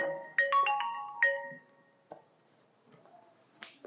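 A mobile phone ringtone plays loudly and close by, a few melodic tones at the start and then quieter beeps, heard alone in a classroom lecture setting.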